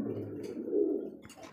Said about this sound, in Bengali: এই যে একজোড়া সাদা দবদবে একজোড়া কবুতর মাশাআল্লাহ দেখার মতো